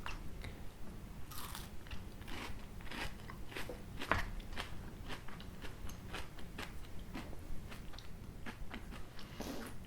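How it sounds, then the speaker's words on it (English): Crisp biting and chewing of a crispy chocolate peanut butter candy bar with a rice-crisp layer, close and steady crunching repeated throughout, with no talk. "I like how it's kind of it's got that nice good crispy crunch to it"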